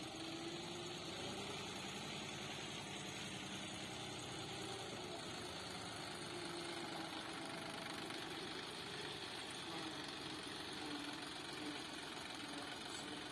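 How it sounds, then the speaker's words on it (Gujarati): A motorcycle engine idles steadily on a farm, giving a continuous low, vibrating rumble that stays even throughout with no voices over it. "હાલતા થઈ ગઈએ મોટરસાયકલ લઈને."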